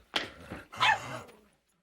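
A dog in the horror film C.H.U.D. II gives two quick barks, a sharp first yelp followed by a longer, rougher bark, close and fairly loud, then silence.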